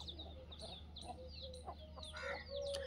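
Free-range desi chickens of three breeds cluck repeatedly in short, overlapping calls on a poultry farm, fairly close, over a steady low hum and faint farmyard background.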